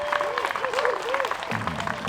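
Spectators at a women's pro disc golf tournament applaud and cheer a flippy, well-shaped drive. The short burst of clapping has whistle-like calls rising through it and a voice talking over it.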